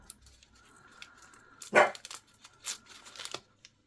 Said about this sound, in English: just had to go and see why my dog barked.